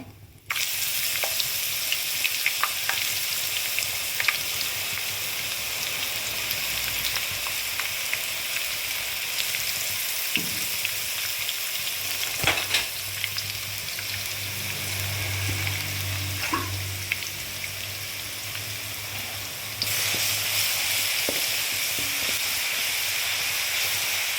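Crushed ginger, garlic and green chili frying in a pan of oil for tomato rice, giving a steady close sizzle and hiss that runs without a break, with a few faint stirring scrapes and no voices.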